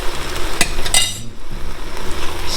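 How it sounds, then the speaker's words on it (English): A spoon scraping and clinking through jambalaya with Creole seasoning in a large pot, a few sharp metallic taps and stirring strokes over a soft background sizzle. "Stir it up a little bit."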